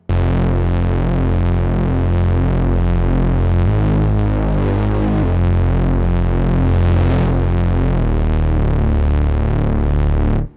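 A techno bass sample named Bang from a modern techno sample pack: a loud, dense, throbbing synth bass that pulses steadily, with a brief change in pitch midway, playing alone for about ten seconds.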